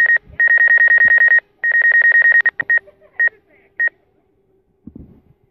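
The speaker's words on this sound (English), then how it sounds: "I'm getting a too close alarm." Merlin One tracking device sounding its too-close proximity alarm: loud, rapid electronic beep bursts in a fast pulsing pattern that breaks into shorter isolated beeps, then silence with a soft rustle at the end.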